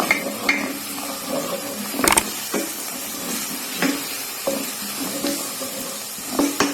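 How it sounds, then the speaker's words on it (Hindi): Garlic frying in a little oil in a pan, a low continuous sizzle broken by several soft clinks and scrapes of stirring, near and fairly quiet, with no talking. "पैन में मैंने थोड़ा सा तेल लिया है और इसमें अब मैं लहसुन डालूंगी।"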